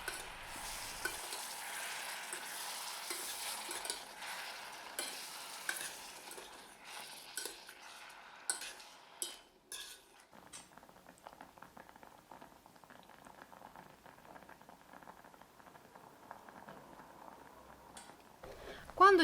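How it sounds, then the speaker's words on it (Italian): Raspberries heating to a boil in a pot, stirred now and then: soft bubbling and gentle simmering hiss with scattered spoon scrapes and clinks against the pot, moderately quiet and continuous. "Porto all'ebollizione mescolando ogni tanto."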